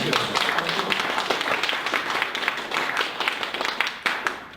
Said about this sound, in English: let's give Jamie Michelson a big round of applause